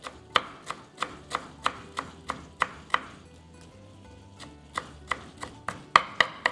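Parsley being finely chopped with a knife for walnut lentil köfte: repeated crisp close knocks on a cutting board, a pause of about a second midway, then a quicker burst of chops at the end, no voices.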